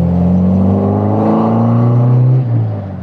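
A Healey by Caton sports car engine blips and drops through a gearbox downshift, a loud, close, throaty drone that swells steadily before falling away near the end, with no talk over it.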